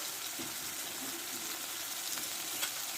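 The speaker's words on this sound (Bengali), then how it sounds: "টমেটোটা একটু ভালো করে কষে নেবো" Tomato cooks down with salt in a pan, producing a steady, close frying sizzle with occasional soft scrapes and clicks as it is stirred.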